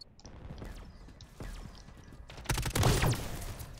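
A ray gun firing in Call of Duty, with a string of sci-fi zaps and whooshing sweeps over game clatter that swell into a louder burst near the end.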